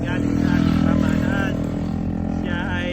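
A six-row riding rice transplanter's engine runs steadily and loud throughout, a continuous low mechanical drone with people talking over it nearby.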